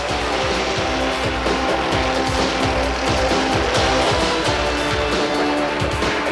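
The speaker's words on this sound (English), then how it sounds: "When the Winston 500 at Alabama International Motor Speedway began, all eyes were focused on Bill Elliott" Race cars roar around the Alabama International Motor Speedway during the 1988 Winston 500 NASCAR race, a loud dense engine drone with pulsing rhythmic passes.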